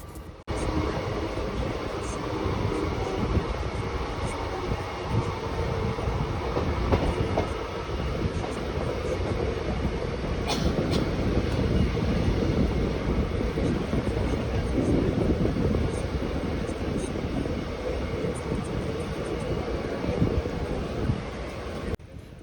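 A local train pulls out of Vaitarna station, with a loud, continuous rumble and rattle of carriages on the rails, building into a steady clatter over about twenty seconds, with faint voices mixed in.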